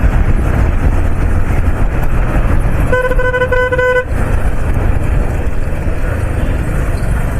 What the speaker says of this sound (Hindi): तो हॉर्न का साउंड ही देखो कैसे आ रहा है।